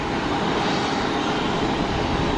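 EasyJet plane departing Geneva Airport, a loud, steady engine roar filling the air with no pauses or talk.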